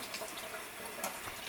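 Faucet water pouring and splashing as hair is soaked under the stream before shampooing, steady and close with small bursts of spatter, no speech.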